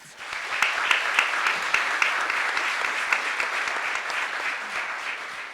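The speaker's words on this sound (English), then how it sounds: "Let's give them a round of applause." A crowd claps steadily, a dense wash of applause sustained for several seconds with no voices standing out.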